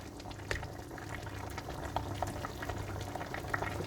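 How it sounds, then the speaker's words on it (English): Sweet corn boiling in a pot, with steady bubbling and scattered pops and splashes, close and moderately loud, building slightly in intensity with no talk. "I'm going to look at it bubbling nicely"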